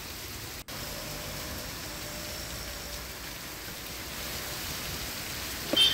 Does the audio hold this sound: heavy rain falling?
yes